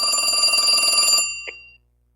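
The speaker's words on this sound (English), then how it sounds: "Is that your phone?" A telephone rings with a loud, continuous trilling bell that stops abruptly, followed by a brief faint blip and then silence.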